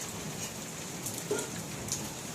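Heavy rain pours steadily on surfaces outdoors, a dense continuous hiss with scattered louder drops, no talking.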